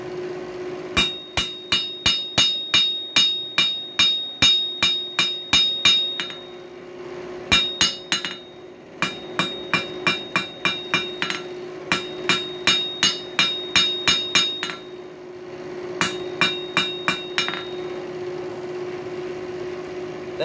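Steel coil spring hammered into a taper on an anvil, sharp clinking hammer strikes in rapid rhythmic volleys separated by short breaks, loud and near with no voices.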